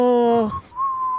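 A person tries to whistle, producing a breathy, wavering tone that glides and holds briefly, followed by a thinner steady whistle note, close and fairly loud.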